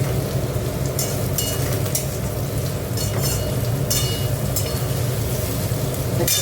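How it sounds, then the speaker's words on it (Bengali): Onion fries in hot oil in a pan, giving a steady loud sizzle with scattered crackles and pops throughout and no talk. "একটু ভাজা ভাজা হোক পেঁয়াজ"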